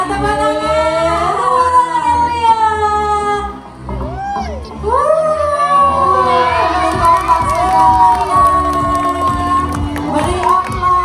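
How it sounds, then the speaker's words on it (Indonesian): A crowd of schoolchildren at a grade 6 elementary school arts performance cheers and shouts loudly. The voices swell, dip briefly, then rise again, with an adult voice speaking over them. "Beri aplaus untuk kelompok 2"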